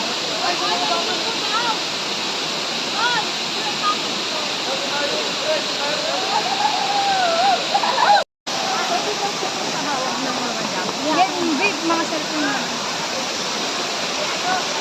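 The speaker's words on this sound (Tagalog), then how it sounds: "So, sample nga ng talon, kuya." Daranak Falls in Tanay, Rizal roars as a steady, loud broadband rush of falling water, with voices talking faintly underneath and a very brief dropout midway.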